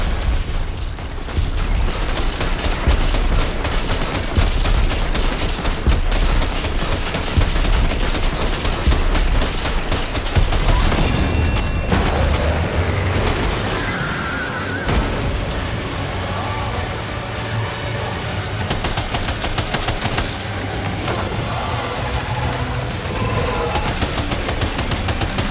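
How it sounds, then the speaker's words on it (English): Sustained gunfire and explosions in the video game Death Stranding 2 during a fight with a giant ghost mech, continuous rattling bursts and booms for the whole stretch with dense battle noise and some voice beneath. "Opening fire now."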